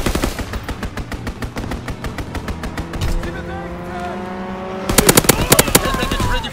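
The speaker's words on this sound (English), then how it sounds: "Strafing run inbound!" Call of Duty WWII multiplayer strafing run: rapid bursts of machine-gun fire rattle in quick regular volleys, pause briefly, then return in louder, sharper shots near the end, with game voice callouts mixed in.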